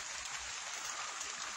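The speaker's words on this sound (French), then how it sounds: "une petite pluie miraculeuse qui tombe sur mon jardinet" Light rain falls on a small garden, a soft, even hiss of drops that stays faint and steady throughout with no voices.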